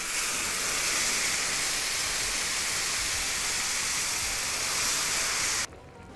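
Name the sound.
boiling water hissing on toasted rice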